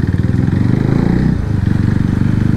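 A motorcycle engine chugs loudly and close by in an even, rapid pulse as the bike turns off a road ahead of a traffic jam, with a slight dip in the middle.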